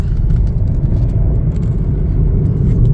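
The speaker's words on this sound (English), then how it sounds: "We're going to go ahead and take this baby for a test drive here." A Chevrolet Trax 2RS drives on a test drive, heard from inside the cabin as a loud, steady low engine and road rumble with a continuous whir and no voices.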